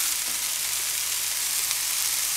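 Carrots and garlic frying together with meatballs in a pan, a steady broadband sizzle that hisses evenly and loudly throughout with no voices.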